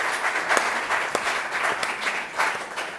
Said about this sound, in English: can we give our panel a big round of applause